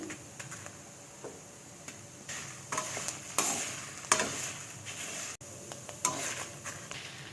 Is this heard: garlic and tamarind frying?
yes